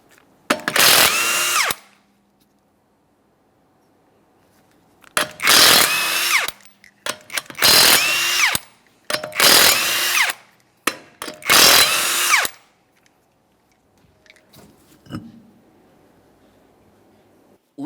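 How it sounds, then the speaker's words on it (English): Five 21mm lug nuts come off a Toyota Corolla front wheel with a power tool: five loud, close bursts of high-pitched whirring, each lasting about a second with short pauses between, followed by faint clinks. "we're going to remove all 5 of our 21mm lug nuts and then the wheel"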